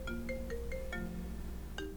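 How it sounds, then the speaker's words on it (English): A phone ringtone for an incoming call plays as a short run of bright electronic tones, repeated in a quick melodic pattern over a low background hum, with no voices. "A phone call again."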